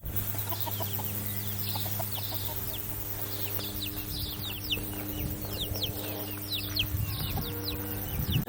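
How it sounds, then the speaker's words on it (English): A flock of chickens near Paihia in the Bay of Islands, New Zealand, clucks in repeated short bursts, close by over a low steady hum, the calls growing busier toward the end, with no talking. "I have an army of chickens right now"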